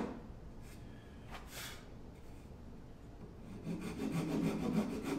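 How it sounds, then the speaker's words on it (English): Hand saw cutting a kerf along a scored line in a walnut axe wedge, a steady close rasping that grows fuller and louder toward the end, with no talk. "I just mainly wanted to score that and get a saw kerf in on this line very accurately."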